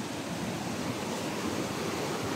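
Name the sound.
strong wind in forest during storm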